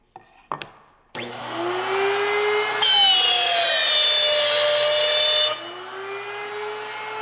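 A power tool cuts dado grooves across wooden boards with a loud, steady whine that starts abruptly, rises in intensity midway, then drops to a lower running drone.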